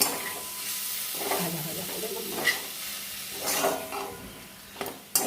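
Pointed gourd pieces with poppy seed paste being stirred in a hot pan, giving a soft steady sizzle with scraping spoon strokes and a few clinks against the pan, close and moderately loud, with no talking.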